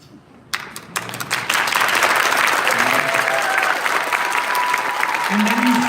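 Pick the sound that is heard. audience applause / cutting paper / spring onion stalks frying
audience applause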